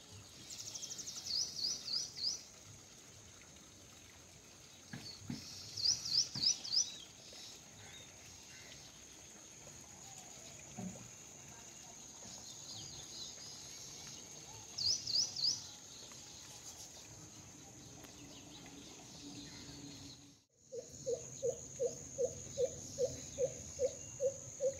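Birds calling outdoors in the Konkan countryside among hills, with short bursts of rapid chirps repeating several times over steady insect-like background hum, ending in a series of evenly spaced lower calls.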